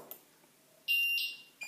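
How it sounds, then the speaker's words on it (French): A Somfy home alarm system gives electronic beeps as surveillance mode is armed: a brief faint chirp, then a loud steady tone of about 0.7 s, and another short beep starting at the end, with no voices. "vous entendez le bip, là, j'ai fait un tour, ça surveille"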